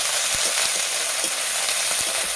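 Garlic paste hitting hot oil in a pan while cooking a pumpkin, potato and prawn curry, a loud, close, steady sizzle and hiss with a few soft stirring knocks.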